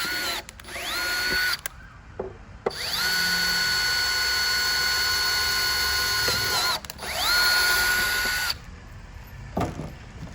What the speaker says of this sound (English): These little dots, you want to drill them out